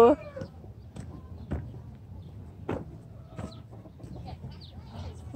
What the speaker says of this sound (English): Those are loud, loud roosters.